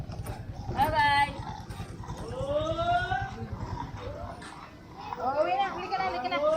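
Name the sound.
dog barking on a street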